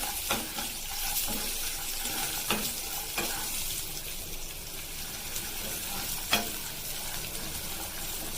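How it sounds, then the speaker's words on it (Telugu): Ivy gourd and peanuts tossed in a frying pan give a steady close sizzle, broken by scattered scraping knocks of the stirring spoon every second or so, with no voices. "ఇప్పుడు ఆల్రెడీ ఫ్రై చేసి పెట్టుకున్న దొండకాయని కలుపుదాం"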